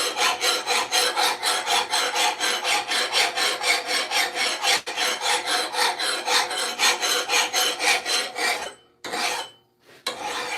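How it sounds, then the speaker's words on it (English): A metal hand file rasps across a hard steel blade in steady, evenly spaced back-and-forth strokes, loud and close, broken by a short pause and a few final strokes near the end. "That is quite a hard blade. And my file is not scratching it very hard."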